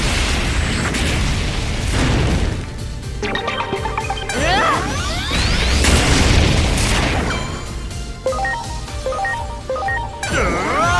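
Terra Force attack in the Digimon Story Time Stranger video game: a string of loud booming explosions and bursts with sweeping, zapping effect tones, dense and continuous, with brief dips between the blasts.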